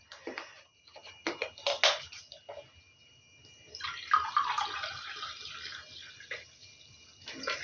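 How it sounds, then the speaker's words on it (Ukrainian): Warm sparkling mineral water pours from a glass into a bowl of oil for dough, a close, gurgling and splashing trickle that comes in uneven bursts, with faint fizzing and small clinks between. "І отакий стакан на 250 мл додаю сюди оцієї газованої води."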